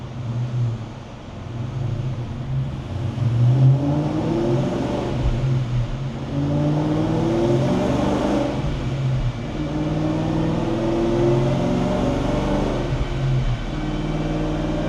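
A Terminator Cobra engine revs steadily under full acceleration from mid revs toward redline, a loud, continuous droning roar heard up close with no talking.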